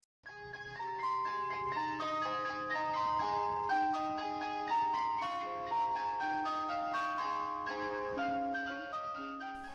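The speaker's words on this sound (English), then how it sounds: "This is an ice cream truck." A British ice cream van chime plays a tinkly electronic melody of quick bright notes, steady and moderately distant, continuing for several bars with no talk over it.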